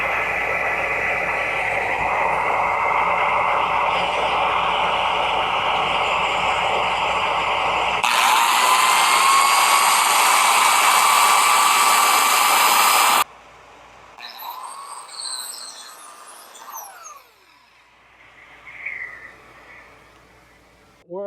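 A biscuit joiner cuts slots into wood for a rolling cabinet shelf, a loud, steady high whine running for several seconds before cutting out, followed by quieter intermittent rustling and voices.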